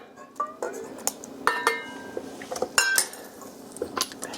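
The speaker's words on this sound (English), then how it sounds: "I know you're not supposed to use a fork on a non-stick skillet" A fork whisks three large eggs in a non-stick skillet for a savory crab cheesecake. The metal tines clink and scrape against the pan in irregular bursts, close and fairly crisp, with no one speaking.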